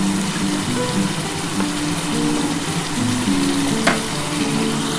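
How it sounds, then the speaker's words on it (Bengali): Water poured into a pan of sizzling fried masala with yogurt, a loud continuous close frying hiss with bubbling and a brief sharp crackle partway through. "এবার আমি একটু জল দিয়ে দিচ্ছি, কারণ আমার মশলাটা কষানো কমপ্লিট হয়ে গেছে।"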